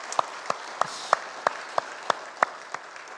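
Church congregation applauds the choir with slow, distinct claps spaced about a third of a second apart, nine or ten crisp claps over a faint background hum.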